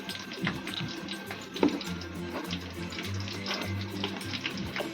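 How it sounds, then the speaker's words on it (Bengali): Water is poured onto finely ground mustard paste while making shukto, a soft, faint trickle and splash close by with some light clinking, and no speech. "এবার আমি জল দিয়ে নেব।"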